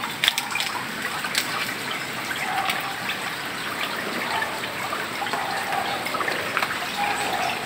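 Heavy rain pours down steadily outdoors after a banana tree has fallen, a dense, continuous wash of drops and trickling water with scattered louder splashes, no voices over it.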